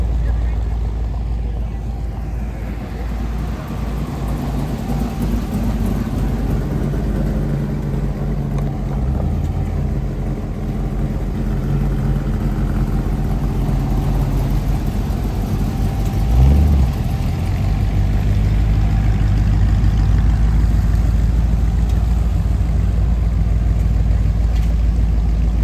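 Motorbike engines idle and rumble at a Minnesota picnic gathering, a steady low drone throughout with a brief louder rev near the middle, over faint background chatter.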